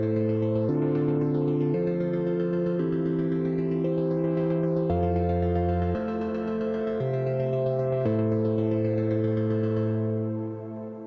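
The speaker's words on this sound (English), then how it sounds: "So the sequencer is just running here, playing the currently selected chord" A Plinky synthesizer's sequencer plays a steady sequence of chords, each block of notes held briefly before stepping to the next, with a bright, buzzy tone throughout.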